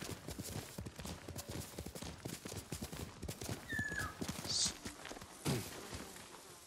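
Hooves of a galloping horse in Ghost of Tsushima pound in a rapid, rolling rhythm, fairly close, with a brief whinny-like call and a thud near the end.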